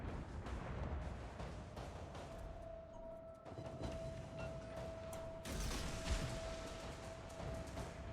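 A naval gun volley in a warship video game, heard as rumbling booms and crackling blasts over a steady, dense background of battle noise, with a few sharper reports standing out.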